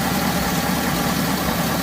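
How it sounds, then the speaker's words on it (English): A 2006 Chevy Silverado with the 5.3 V8 engine idling after about ten minutes of running, a steady close low rumble with no change in rhythm and no voices. "This engine's been idling about 10 minutes."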